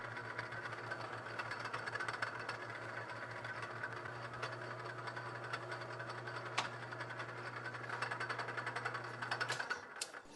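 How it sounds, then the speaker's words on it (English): A milling machine shortening a steel pulley shaft for a budget off-road scooter build gives a steady machine hum with a low constant drone, a whirring tone and faint irregular clicks, running continuously and ending abruptly near the close. "To keep it square, I'm just going to do it on the milling machine."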